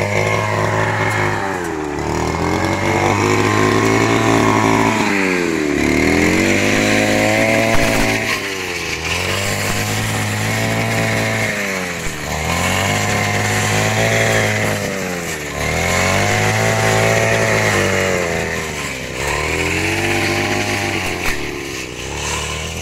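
A gas-powered grass cutter runs steadily in a string bean garden. Its engine rises and falls in repeated rev cycles every few seconds, loud and close, with no talk over it.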